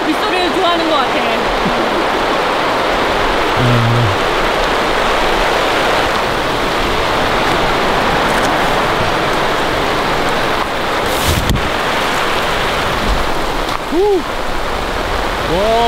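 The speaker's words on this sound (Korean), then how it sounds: "이 타프에 떨어지는 빗소리를 좋아하는 것 같아" Steady, heavy rain patters densely on a taut camping tarp in a downpour, a constant wash of drops with a low rumble underneath.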